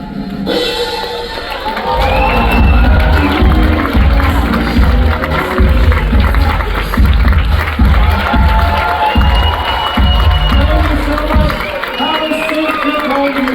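A cruise ship theater audience on Royal Caribbean bursts into loud applause and cheering after a magic trick, a dense roaring mix of clapping, shouts and whoops that swells after a brief opening and stays strong throughout.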